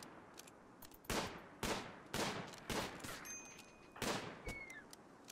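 Gunfire in the video game RimWorld as a colonist shoots at a squirrel: a rapid string of about six sharp, crisp shots with brief gaps, fairly loud over a quiet game background.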